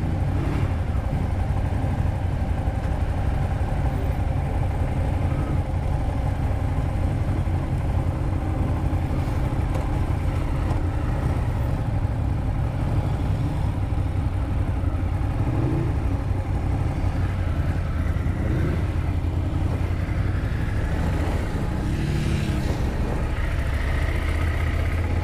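A Ducati Monster 1200S naked motorcycle engine runs steadily at a moderate level for a long stretch, a constant low throb with slight rises in revs and a windy background.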